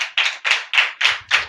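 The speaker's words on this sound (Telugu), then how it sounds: "గట్టిగా చప్పట్లు కొడదాం." Church congregation clapping hands loudly in unison, six strong, evenly spaced claps close by, with no talk over them.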